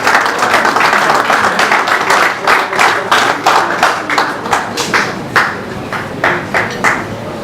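An audience claps steadily to welcome a speaker at a 20 May 2018 celebration, a dense, loud applause that holds for several seconds with a pulsing rhythm and no talking over it.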